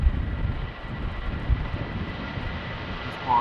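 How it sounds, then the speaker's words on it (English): An Air France Hop Embraer jet taxis toward the runway at Schiphol with a steady, distant engine rumble, mixed with wind noise buffeting the microphone on a windy day. "Air France Hop and Embraer also making its way over to the runway"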